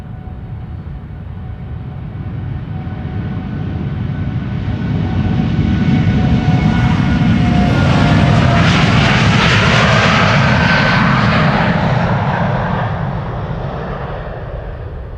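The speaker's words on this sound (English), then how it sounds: "It is the last airplane of the day, KLM Flight 667 to Austin, Texas, 7879 Dreamliner" A KLM Boeing 787-9 Dreamliner takes off from Amsterdam Schiphol, its engines roaring loud and close, swelling to a peak with a sweeping tonal whine as it passes, then slowly easing off.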